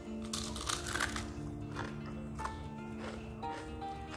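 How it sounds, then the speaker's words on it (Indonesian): Someone bites into crispy kue leker, a thin Indonesian crepe sold as Surabaya street food, and the close crunching comes in a few quick bursts over a steady background hum. "Ini emang kriuk banget ya,"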